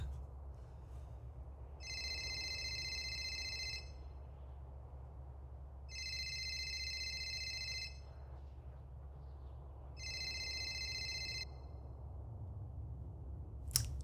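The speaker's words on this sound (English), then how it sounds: "And that's my phone in game, isn't it?" A phone rings in the NoPixel RP game, three evenly spaced bursts of a bright electronic trill, each about two seconds long, over a low steady hum with no talk.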